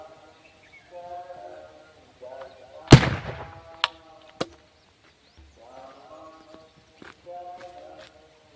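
A homemade jugaad gun, a farmer's device for scaring monkeys off crops, fires one loud sharp bang in the open air, with smaller pops after it and talk before and after.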